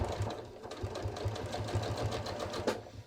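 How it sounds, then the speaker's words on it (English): A sewing machine stitches through a thick jeans waistband and pocket layers, its needle running in a fast, steady, close mechanical whir with faint clicks, and nobody speaks. "I'm just going to sew within the seam allowance."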